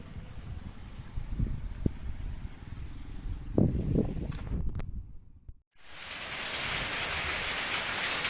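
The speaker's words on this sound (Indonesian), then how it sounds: "Biasanya hujan segini nggak sampai begini" Heavy rain during a flood beside a river: a steady rushing hiss with rustling and low rumbles, a brief dropout, then a louder, bright, continuous downpour wash.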